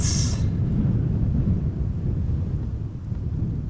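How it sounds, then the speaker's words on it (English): Steady wind at Amsterdam Schiphol Airport buffeting the microphone, a continuous low roaring rumble throughout, loud and close, with a brief faint higher hiss at the very start. "Wind now blowing with 12 knots and from direction 280."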